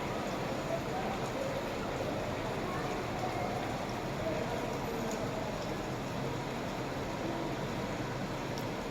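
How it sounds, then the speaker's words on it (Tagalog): Heavy rain pouring steadily in a rural province, a dense, even hiss of falling water that stays loud and constant the whole time, with no voices. "Ne-enjoy nila ang buhos ng ulan."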